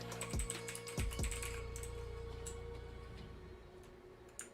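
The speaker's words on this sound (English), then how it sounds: "Keyboard clicking is satisfying. Yeah, I've got the mechanical keyboard here." A mechanical computer keyboard gives a few sharp, close clicks early on, then the clicking thins out to occasional faint taps over a steady low hum.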